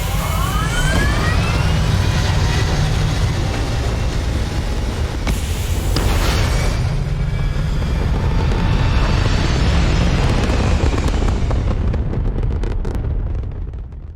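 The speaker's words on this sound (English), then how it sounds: "Good to be back on board. All thrusters firing." A spaceship's thrusters fire in Starfield with a sustained, loud roaring rumble that holds steady for over ten seconds before easing off, with faint rising tones layered over the roar.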